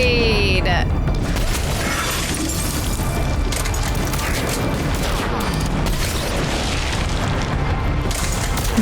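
A grenade detonates in the Mass Effect 3 video game amid a dense, loud wall of combat noise, with deep rumbling booms and debris filling the whole clip while voices shout over the chaos.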